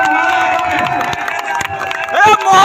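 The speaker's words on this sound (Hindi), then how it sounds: "सभी लोग ताली बजा करके स्वागत करें" A large crowd at an Akhilesh Yadav election rally in Sandila claps and cheers in welcome, a dense, loud roar of applause and shouting with a voice over the loudspeaker.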